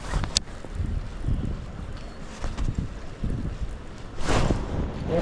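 Wind gusting across open water during a kayak fishing tournament, a steady rushing buffet on the microphone with a few sharp knocks and a louder swell of gust near the end.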